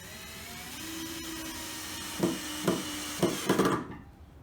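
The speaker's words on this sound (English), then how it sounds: "we'll put some screws in those now" A power drill winds a screw into a wooden planter box with a steady low whine, then gives several short bursts that end in knocks as the screw head seats. The sound is close and moderate in level, with no talking.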